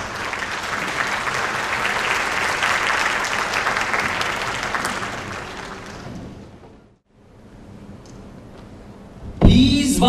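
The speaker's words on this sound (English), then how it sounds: "Round of applause." Concert hall audience applauding a youth orchestra's My Fair Lady performance, a broad wash of clapping that fades out around the sixth second into near silence before a brief burst of other sound at the end.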